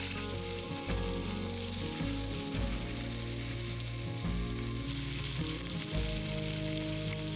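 Skin-on pieces browning in a pot of hot fat for Hungarian paprikash, a loud, continuous close sizzle and crackle with occasional bumps of the pot, no voices.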